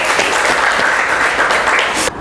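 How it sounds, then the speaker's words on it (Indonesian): Applause from a classroom of students fills the whole stretch, dense steady clapping at close range that cuts off sharply near the end. "Tepuk tangan untuk Pinkan."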